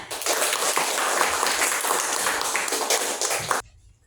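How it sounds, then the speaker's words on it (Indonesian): An elementary school class of fifth graders claps hands together in a classroom, a loud, continuous burst of many small hands that stops abruptly, leaving near silence. "Coba tepuk tangan semuanya."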